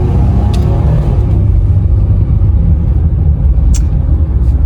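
A 2017 Honda Ridgeline RTL-E AWD pickup drives with a steady, loud low engine rumble under acceleration, with no distinct gear-change break audible and a couple of faint high clicks over the drone.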